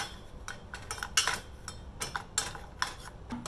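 A utensil stirs chocolate melting in a pot on the stove, making light, irregular close scraping and clinking strokes against the metal.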